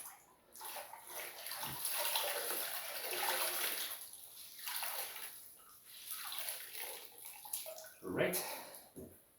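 Hand-washed laundry is rinsed in cold water by hand during a blackout, with sloshing and splashing that rises and falls in waves alongside a brief spoken word.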